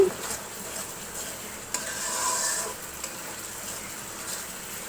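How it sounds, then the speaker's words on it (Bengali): Dried fish (shutki) spice masala frying in a pan, with a soft continuous sizzle and repeated stirring scrapes up close, a few sharper clinks of the spoon, and no voices. "শুটকির মশলাটা আমি ভালো করে কষিয়ে নিয়েছি"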